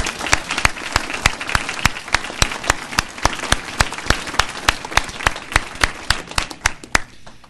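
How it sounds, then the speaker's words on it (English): A conference audience at a water summit keynote claps steadily and loudly, with individual claps sharp and close, for the whole stretch without talking. "Let's have one more round of applause for everyone that's joined us."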